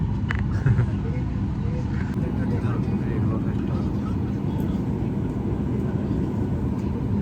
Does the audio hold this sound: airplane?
yes